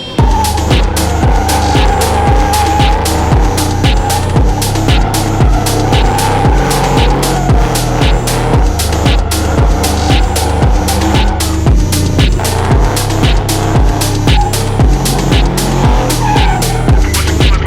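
A car fitted with a steering angle kit drifts hard with continuous loud tire squeal over a pulsing, throbbing engine, sustained and close throughout.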